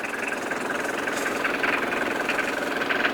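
A tractor's diesel engine idling steadily on a clear day outdoors, a close, even rumble with a faint knocking pulse running throughout.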